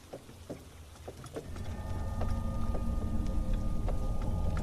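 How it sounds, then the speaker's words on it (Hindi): Rain falls steadily, starting with scattered drops and quickly thickening into a dense, continuous downpour that stays fairly quiet. "पर बारिश अब भी वैसी ही थी।"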